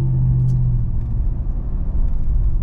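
A 2021 Chevrolet Silverado 1500 in sport mode rumbles on the road, a steady deep engine drone heard from inside the cab, loud and continuous with no talking.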